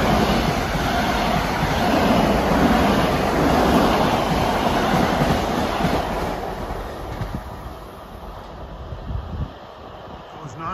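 A Long Island Rail Road commuter train bound from Ronkonkoma to Atlantic Terminal rushes past at Carle Place on a triple-track line, making a loud, close, steady roar with wind buffeting the microphone. The roar fades toward the end.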